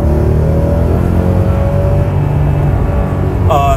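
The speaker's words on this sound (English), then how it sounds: "Now I'm going to hit the gas here a little bit." Maserati GranSport engine accelerating as the driver steps on the gas, a loud, steady low rumble with rising harmonic tones throughout, close and continuous, with a brief higher burst near the end.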